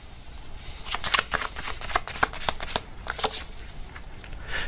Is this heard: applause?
no